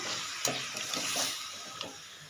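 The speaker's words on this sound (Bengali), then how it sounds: "সবজিটা এই সবজিটা ঢেলে দিলাম" Vegetables tipped into a hot pan of curry give a soft steady sizzle and hiss, with a few light clinks and stirring scrapes, fairly quiet and close with no talk.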